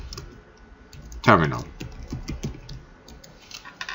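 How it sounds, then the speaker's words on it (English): Keys clatter on a computer keyboard as a command is entered into a Cisco router's terminal, a quick run of close clicks while someone talks over them. "by typing configure"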